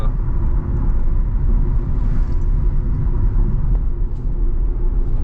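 A bus overtaking on the Malshej Ghat road, heard as a loud, steady, low road rumble and engine drone throughout, with no talking.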